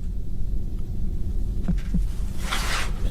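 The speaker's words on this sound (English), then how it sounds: "So that heartbeat." A throbbing heartbeat sounds among the sounds of an abandoned place, low and muffled under a steady rumbling hum, with two soft thumps and then a brighter hiss near the end.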